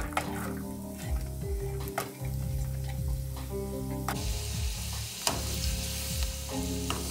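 Vegetables sizzle in a pan over medium-high heat, a lively frying hiss broken by stirring scrapes and a few utensil clicks, with background music playing underneath.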